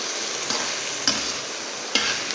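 Spices roast in hot oil in a pan for spicy okra (bhindi), giving a steady close hiss broken by a few sharp spatula taps.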